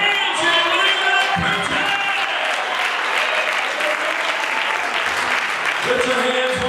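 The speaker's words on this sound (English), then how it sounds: "Clap your hands and believe it." Church congregation clapping hands together in sustained, loud, dense applause throughout, during a revival sermon, with voices rising over the clapping near the end.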